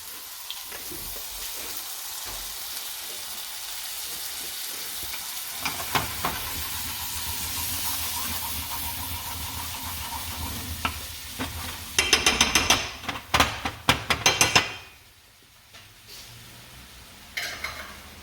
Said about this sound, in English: we're going to add just a little bit of cream to finish this sauce